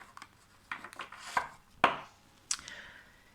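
An oracle card deck being cut and shuffled close up: several crisp papery slaps and riffling flicks spaced irregularly, with quiet gaps between.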